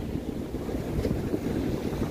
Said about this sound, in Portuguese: Escute o barulho do mar.